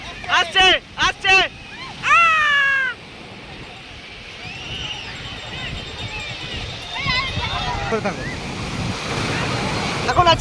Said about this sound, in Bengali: আমার একটা ঢেউ আসছে